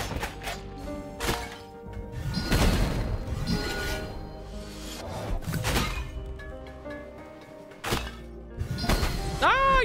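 Repeated ground pound attacks in the video game Death's Door land as heavy thunks and crashing impacts, several loud hits spaced across the stretch with game effects between them.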